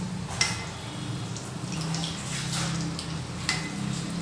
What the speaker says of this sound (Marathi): आता एक साईड 5 ते 7 मिनिटं तळून घेऊया